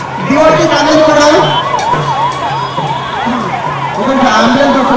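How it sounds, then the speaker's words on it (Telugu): An ambulance siren wails with a rising and falling tone as it moves through a dense crowd at a Jagannath Rath Yatra festival procession. It rings loud and close over constant crowd noise and chatter. "ఒక అంబులెన్స్ వస్తుంది."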